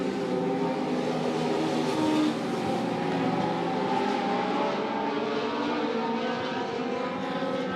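Dirt track race cars at Monett Motor Speedway roar in a steady, continuous engine drone during green-flag racing, the dense layered motor noise holding loud and even throughout with no talk.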